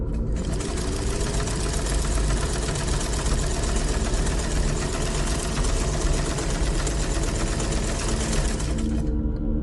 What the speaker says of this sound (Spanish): al ruido de la máquina de coser que metió en el cuarto de Nina